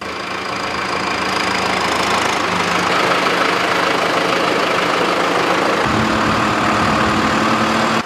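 A tractor engine idles loudly and steadily up close while the machine is readied for fieldwork, its low rumble joined partway through by a rougher knocking tone.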